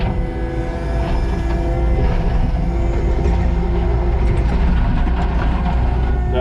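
A skid steer with a tooth bucket digs into hard ground of packed shell, giving a loud, steady mechanical grinding and rattling drone that carries on without a break.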